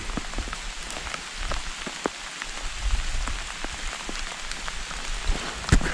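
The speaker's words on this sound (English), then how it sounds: "This is November rain." November rain falls on and around a cabin at a state park in autumn, a steady soft patter with scattered sharper drips landing close by, continuous throughout.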